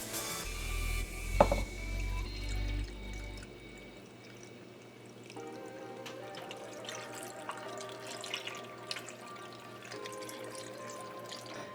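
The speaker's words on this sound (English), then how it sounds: "And then we're also going to add in 3 cups of water." Three cups of water poured into a casserole dish of spaghetti sauce. A brief rumble and splash open it, followed by quieter sloshing and a few light clinks of dishes, close and unaccompanied by talk.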